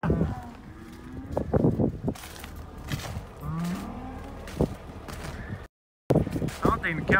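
Cattle moo out in snow and ice, several loud nearby lows and bellows overlapping, with someone talking over them and a brief dropout near the end.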